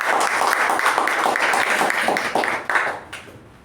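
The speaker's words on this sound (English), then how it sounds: "Let's give a huge round of applause for India." Applause from a Toastmasters meeting audience, a group clapping with a fairly brisk, rhythmic patter that stays strong for a few seconds, then thins out and fades toward the end.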